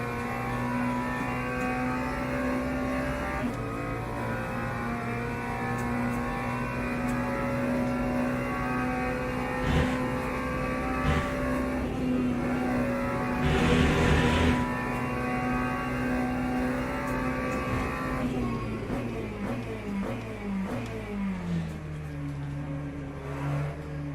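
A race car laps a track in a racing video game, its engine a loud, sustained, steady drone that holds a constant pitch through most of the stretch, then shifts and falls away near the end.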